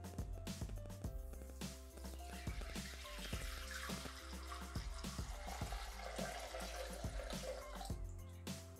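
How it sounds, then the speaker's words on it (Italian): Food-grade alcohol poured into the bowl of a Bimby Thermomix, a steady liquid pour running throughout over faint background music with sharp plucked accents. "Iniziamo la ricetta mettendo all'interno del boccale l'alcol per alimenti"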